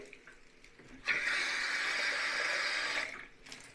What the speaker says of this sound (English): Probably Matt would not love me pouring water in the bathtub that has the camera in it.